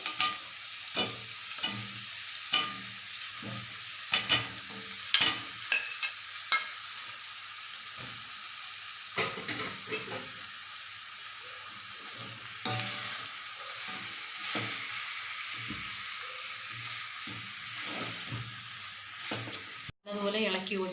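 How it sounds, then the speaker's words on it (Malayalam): Pre-fried chicken pieces for chicken kondattam are tossed in a hot pan, with a loud sizzle and repeated scraping stirs in an irregular rhythm, close by, with some talking heard over the cooking. "ഇത് ഇനി അതിലേക്ക് ഫ്രൈ ചെയ്ത് വെച്ചിരിക്കുന്ന ചിക്കൻ പീസസ് ഇട്ട് കൊടുക്കുകയാണ്."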